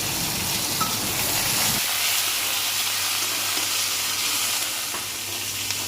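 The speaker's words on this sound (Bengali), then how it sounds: "এখানে দিয়ে দেওয়া হলো দুটো পেঁয়াজ কুচি করে কেটে নিয়েছে" Chopped onions frying in hot oil make a loud, continuous hissing sizzle that settles slightly toward the end, with a low hum underneath and no talking.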